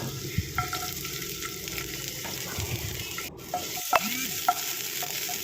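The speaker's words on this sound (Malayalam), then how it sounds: "വെളിച്ചെണ്ണയൊക്കെ ഒന്ന് ചൂടായി വരുമ്പോൾ ഇഞ്ചിയും വെളുത്തുള്ളിയും ഇട്ട് കൊടുക്കാം" Ginger and garlic fry in hot coconut oil for a Kerala sardine curry, giving a steady close sizzle. Occasional spoon stirs and clinks of the pan sound over the sizzle.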